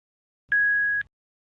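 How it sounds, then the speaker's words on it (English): A single steady electronic headphone pairing beep lasting about half a second, clear and close, with silence before and after. "Press and hold the tone button on your headphones until you hear an audible beep"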